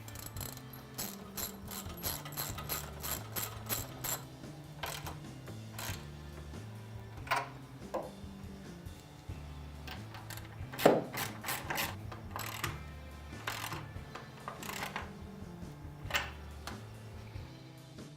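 A ratchet with a 9/16 socket tightening a nut and washer on skate ramp coping, rapid repeated clicking strokes in short bursts with brief pauses, close and clear.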